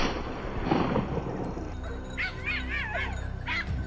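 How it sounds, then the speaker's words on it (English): Hunting dogs chasing wild boar yip and whimper in short, wavering bursts from within brush, a few calls close together against a rumbling background. "The dogs barked furiously from within the brush"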